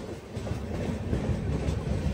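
Devagiri Express, running from Secunderabad to Mumbai CSMT, rumbles steadily and loudly, with a dense rolling roar and soft wheel clatter heard close from on board.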